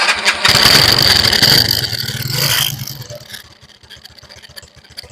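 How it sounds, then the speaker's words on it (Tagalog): A SYM Bonus motorcycle engine runs loudly with a steady low putter, then eases to a quieter, even idle that keeps ticking along to the end. "Kailangan buhay yung ating makina dyan."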